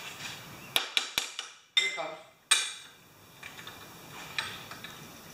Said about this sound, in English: That's a small hammer.